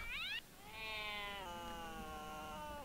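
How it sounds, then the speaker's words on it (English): A cat in Neverwinter Nights 2 lets out a short rising meow, then a longer, drawn-out meow that fades into a sustained wail, close and clear with no talk over it. "the cat hisses one final time and flees out the door"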